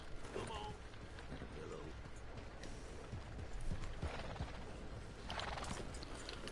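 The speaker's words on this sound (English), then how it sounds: "Oh no, the horse is moving." Horse hooves clip-clopping in the Red Dead Redemption Online game, with a whinny or neigh mixed into steady game ambience and faint mechanical clicks.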